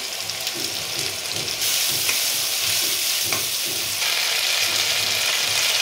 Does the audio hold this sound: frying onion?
yes